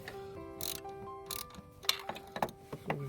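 A hand ratchet tightening ignition coil pack bolts on a Hummer H2: short clusters of close, quiet clicking pawl ticks in brief strokes, with a faint hum beneath.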